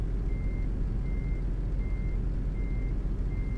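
Truck reversing alarm in the Euro Truck Simulator 2 video game: five evenly spaced steady beeps over a loud low engine rumble, with no talking.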